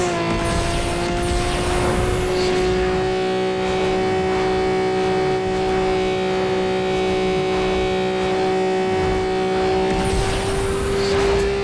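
A Toyota Supra's engine roars steadily in a racing video game, holding a loud, sustained high-revving tone that swells slightly near the end, with no talking over it.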